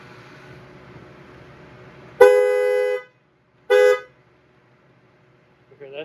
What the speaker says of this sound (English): Why is the horn going off?